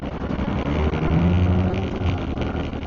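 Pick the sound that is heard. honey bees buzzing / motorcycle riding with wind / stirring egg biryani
motorcycle riding with wind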